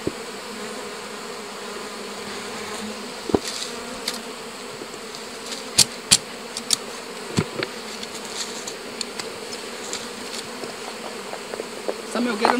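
Honeybees buzz around an opened hive full of stored honey while smoke is puffed over it. The drone is thick and steady at moderate volume, broken by scattered close fly-bys and light knocks.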